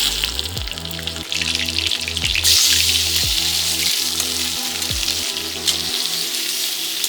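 Pieces of mutton hit hot oil with browned onions in a pan over a medium flame, bringing a loud, steady sizzle with wet crackling that swells as the meat goes in, over a faint repeating background tone.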